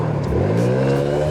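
A four-stroke scooter fitted with an 80cc kit revs up and accelerates steadily, its buzzing drone rising in pitch, loud and close throughout.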